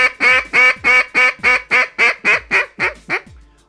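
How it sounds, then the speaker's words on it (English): A Buck Gardner SBT Spitfire duck call blowing a hunting-style hail call: about eleven loud, ringing quacks in a fast even cadence, tapering slightly toward the end before stopping. "give them old hunting style hail call"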